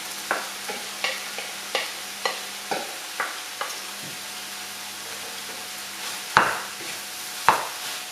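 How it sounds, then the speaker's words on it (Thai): Rice for shrimp fried rice is stir-fried in a pan, with a steady sizzle broken by a regular run of spatula scrapes and taps, then two louder clanks near the end. "อันนี้เราก็ผัดให้เข้ากันนะคะ"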